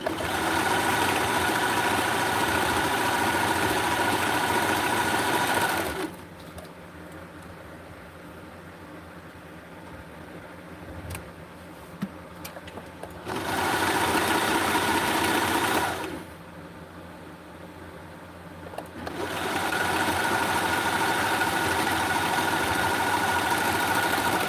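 A sewing machine stitches the side seams of a doll dress sewn from McCall's pattern 7480. It makes loud, steady motor-and-needle runs in three long bursts, separated by quiet pauses.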